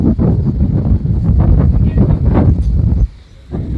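Strong wind buffets the microphone in deep, rumbling gusts, then drops off briefly near the end.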